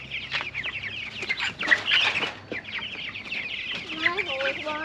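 Chickens cluck and squawk close by while being moved to a new home on pasture, a busy overlapping chatter of several birds with brief louder cackles and some wing flapping.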